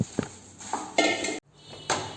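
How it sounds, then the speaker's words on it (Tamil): Puffed rice gets mixed into hot jaggery syrup in a metal vessel off the stove, heard as a few close clanks and scrapes of a spoon against the pot, with a short pause between strokes. "இப்போ வந்து நம்ம பொரி இதில் போட்டு கலக்கலாம்."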